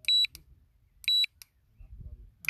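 Three bursts of shrill electronic beeping from a FAITH Wicked fishing bite alarm, each a quick double or triple chirp spaced about a second apart, loud and close, with faint handling noise between.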